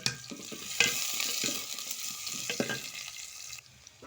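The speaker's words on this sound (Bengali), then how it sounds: "পেঁয়াজটা আমার ভাজা হয়ে এসছে" Onions frying in a pan over a wood-fired stove, a close crackling sizzle with intermittent stirring scrapes, fading quieter near the end.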